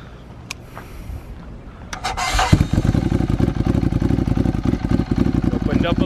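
A Ducati Monster motorcycle fitted with a Mivv aftermarket exhaust starts up after a few faint clicks, then settles into a loud, close, lumpy idle with an uneven throbbing pulse.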